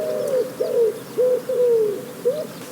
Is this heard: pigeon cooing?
yes